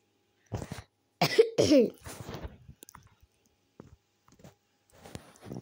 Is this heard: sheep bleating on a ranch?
no